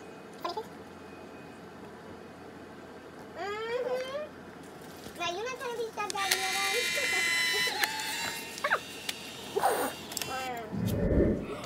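Polaroid instant camera at home taking a shot, with whirring, ratcheting motor sounds as the picture ejects, mixed with girls' voices and chatter throughout.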